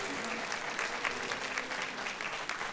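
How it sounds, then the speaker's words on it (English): Sustained audience applause fills a school board meeting room, dense steady clapping from many people throughout, fairly loud and close with no speech over it. "Please hold your, Attorney Powers, please tell them to hold their applause."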